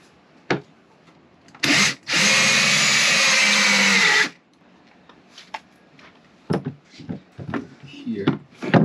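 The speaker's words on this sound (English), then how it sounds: "So I'm gonna drill a hole there and put this in there." A power drill bores a hole on a boat in one sustained, loud burst of about two seconds. It is preceded by a short whir and followed by scattered knocks and handling noises, with people talking nearby.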